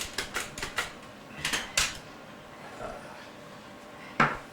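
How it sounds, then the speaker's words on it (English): A mandolin slicer cuts thin slices of radish while flounder crudo is prepared, giving a quick run of crisp clicking strokes, a short pause, two more cuts, then one sharp final clack. "I'm going to make some thin slices of radish also"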